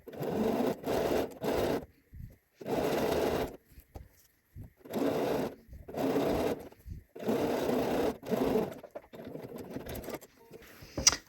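A sewing machine stitches understitching on a dress in several bursts of rapid whirring, each a second or two long, separated by short pauses, close and moderately quiet.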